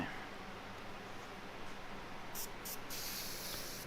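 An airbrush sprays paint through a stencil onto a T-shirt for graffiti-style bricks, producing a faint, continuous hiss with a few short bursts near the end and no talk.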